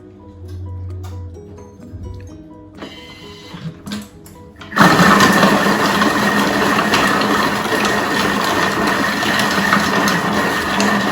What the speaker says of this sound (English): So here we go. 7 seconds, speed 4.